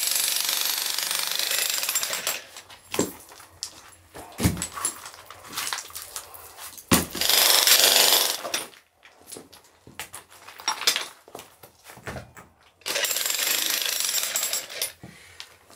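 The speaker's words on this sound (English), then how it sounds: "There were no jackhammers. I almost feel like cheating" A jackhammer pounds in loud bursts separated by pauses, breaking stone in an Italian ruin renovation, with sharp impacts of cracking stone and a dog whimpering in between.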